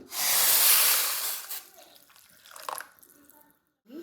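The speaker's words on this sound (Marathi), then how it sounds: "आता याच्यामध्ये ॲड करूया गरम पाणी" Hot water pours into a pan of pav bhaji masala, a loud rushing splash that fades over about two seconds, followed by quieter bubbling and clinks.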